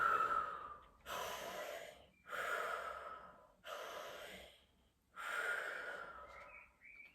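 Deep breaths during a fascial stretching exercise, five slow, close breath cycles with short pauses between them, clearly audible and alone with no talking.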